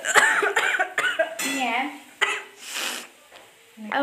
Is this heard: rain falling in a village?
no